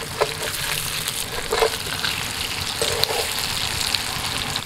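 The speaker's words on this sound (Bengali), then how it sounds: "হালকা হাতে আস্তে আস্তে নাড়াচাড়া করে পনিরটাকে আমি হালকা করে ভেজে নেবো" Paneer cubes fry lightly in a pan, giving a steady, even crackling sizzle with occasional soft stirring taps, close and continuous with no talk.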